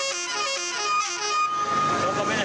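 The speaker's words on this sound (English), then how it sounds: "What is that? Somebody's car horn?" A car horn honks repeatedly in a loud, sustained tonal blare with shifting pitches, mixed with crowd noise and voices talking nearby.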